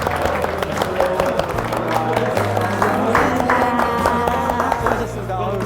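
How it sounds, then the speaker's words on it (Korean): A church congregation claps to close a talk, a brief burst of applause from a small crowd mixed with overlapping voices and background music. "그럼 박수로 마치겠습니다"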